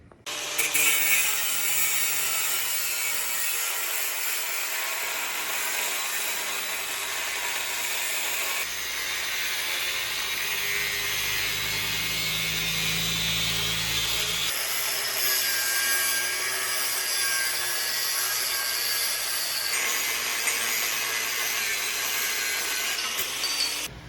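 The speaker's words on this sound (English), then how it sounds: "I guess I'm going to start off with a cutoff wheel and see how that goes" A cutoff wheel grinds through a trailer hitch part on a turbo Dodge Diplomat, a steady, harsh, continuous cut that shifts tone partway through and then evens out again.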